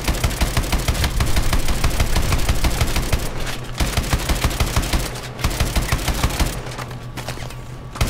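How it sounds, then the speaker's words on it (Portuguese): Dense machine gun fire in the Call of Duty: Advanced Warfare video game, loud continuous bursts with brief pauses, heavy overlapping fusillade close up. "Cara, é muito tiro, velho."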